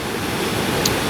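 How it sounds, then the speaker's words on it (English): Barnafoss waterfall in Iceland roars in a steady, dense broadband rush, close and constant throughout, with no voices. "So I'm standing here at the Barnafoss waterfall."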